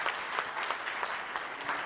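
An audience claps steadily in a brief, even burst of applause during a public address on medical service, the clapping dense and fairly distant with no voices over it.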